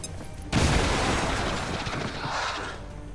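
A frag grenade goes off in XCOM 2: a sudden loud blast after a half-second lull, followed by a long rumbling, crackling roar of debris and gunfire that slowly tapers, with no talk.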